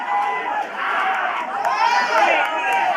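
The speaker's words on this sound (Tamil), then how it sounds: "இப்படிப்பட்ட ஆரவாரம்" A cheering crowd of fans inside the Kamala theatre at a film promo event, a dense, roaring wash of voices and shouts that holds steadily for several seconds.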